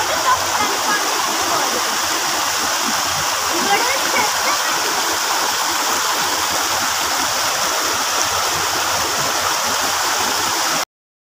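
Children splash and play in a shallow stream, their movement blending into a steady, loud rush of flowing water that runs continuously without a break.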